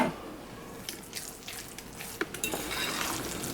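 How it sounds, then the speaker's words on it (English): A knife rocks through chickpea tuna salad on a cutting board, giving a few faint, irregular taps and clicks over quiet room background. "Chop it up like this,"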